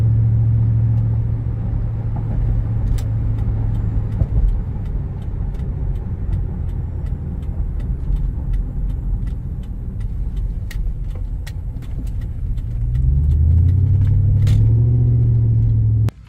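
A supercharged 2002 Ford F-150 Harley-Davidson Edition pickup runs with a steady low engine rumble under light throttle, then swells louder and rises in pitch near the end as it accelerates.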